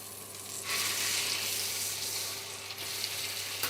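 Veal chop frying in butter browned almost to noisette, a continuous close, even hiss of sizzling fat with a soft low hum beneath it.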